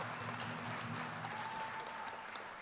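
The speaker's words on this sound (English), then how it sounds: "once again, round of applause" Round of applause at a United Tribes Technical College spring commencement ceremony, steady clapping from a crowd throughout, fairly faint and distant.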